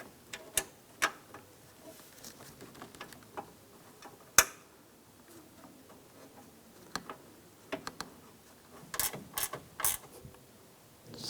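Ratchet clicks in short bursts while tightening the radiator latch bolts on a 2004–2009 Toyota Prius, with sparse ticks, a sharp knock near the middle and a denser cluster of clicks toward the end, close and fairly quiet.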